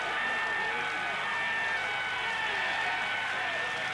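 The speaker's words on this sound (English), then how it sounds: "Claudio Chioccioli getting this enormous applause from the spectators" A large roadside crowd at the 1992 Tour de France stage 19 time trial gives a cyclist sustained applause, a dense, steady wash of clapping and cheering heard throughout with commentary over it.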